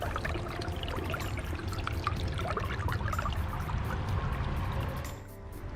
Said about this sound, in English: Check out this portion of the creek